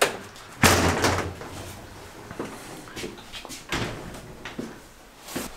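A heavy oak door with a glass window in an abandoned Victorian mansion gives a solid thud as it moves, followed by several smaller clunks and knocks of the wood and latch, with no voices.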